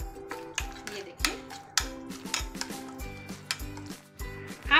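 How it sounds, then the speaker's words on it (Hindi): A spoon mixes chopped onion and fresh coriander into a roasted tomato and garlic chutney in a bowl, making close, quiet clinks, taps and scrapes in an uneven stirring rhythm. "अब हम सबको अच्छे से मिक्स कर देते हैं।"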